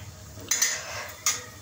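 Green chickpeas being roasted in a pan, with a utensil scraping and clinking against the metal in two short, sharp strokes over faint background noise.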